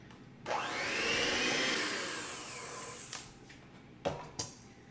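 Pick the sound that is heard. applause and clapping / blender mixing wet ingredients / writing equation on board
blender mixing wet ingredients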